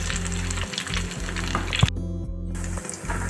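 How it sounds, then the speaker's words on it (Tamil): Cauliflower pieces fry in hot oil, a dense, steady sizzle with a low hum beneath and a brief clink partway through, close up and with no speech. "திருப்பி விட்டுட்டு 2 பக்கமும் நல்லா ஃப்ரை ஆகட்டும்."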